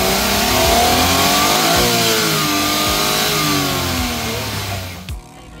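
A Suzuki DA17V semi-wagon's R06A engine revs up and down in several loud, close swells, the pitch sweeping rising and falling before dropping back toward idle at the end.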